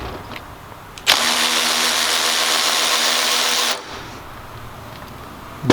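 A Snap-on 3/8-inch ratchet, a power tool under test against a Milwaukee M12 Fuel, runs for about three seconds as one loud, steady, bright whir, starting and stopping abruptly with quiet before and after.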